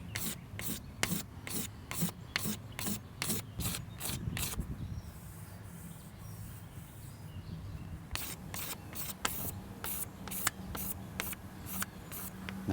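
A hand scraper removing a varnish run from a boat in quick repeated strokes, each a short rasping scrape in a steady rhythm, pausing for several seconds midway and then resuming.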